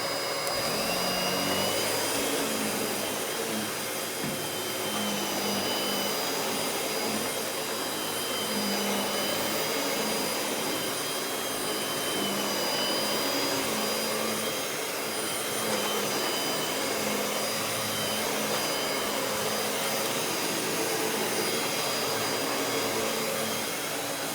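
A Hoover Windtunnel Anniversary Edition S3670 canister vacuum cleaner running continuously at close range, a loud steady whine and rushing airflow with slight fluctuations as it is pushed across the floor.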